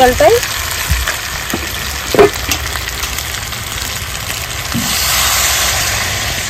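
Boiled water is poured into mutton curry frying in a pan at a village cooking spot, setting off a sudden broad hiss and sizzle over the steady frying and occasional stirring scrapes.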